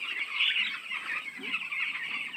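Thirteen-day-old chicks on a poultry farm chirp and peep together in a dense, continuous high chatter at moderate volume, with no voices.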